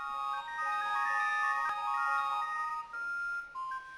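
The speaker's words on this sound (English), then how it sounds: "a Lithuanian student has managed to program ringtones on 9 mobile phones so that they ring simultaneously" Nine mobile phones ring at once, their programmed ringtones blending into a bright, layered chorus of electronic melodies that sounds close and steady for a few seconds with no talking.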